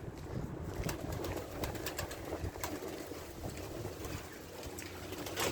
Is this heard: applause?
no